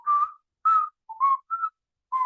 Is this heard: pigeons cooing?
no